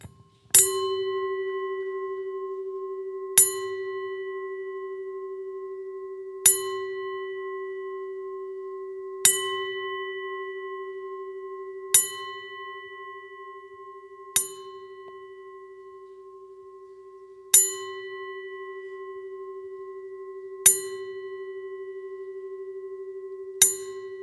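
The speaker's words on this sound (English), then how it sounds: "we toll the bell 10 times in remembrance of Logan" A memorial bell tolled ten times at a wrestling event, each clear metallic strike ringing out alone at slow, even intervals and sustaining a long humming decay into the next.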